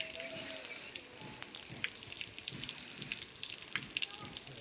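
Water gushes and trickles into furrows to irrigate eggplant plants, a faint steady flow with small splashes and occasional knocks, no talk heard.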